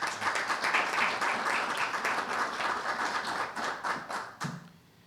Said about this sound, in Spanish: También les pido un caluroso aplauso.